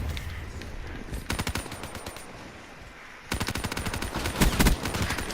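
Video-game gunfire in Black Ops 3 shot through a wall: rapid automatic bursts crackle in two main stretches, fairly close and loud, with a steady background din between volleys and no talking.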